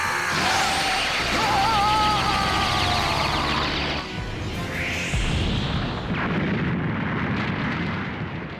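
A Big Bang Attack energy blast from a Dragon Ball fighting game: a charging whine and roar, then heavy booming explosions with crackling debris, loud and continuous over several seconds, with a character's voice shouting over it.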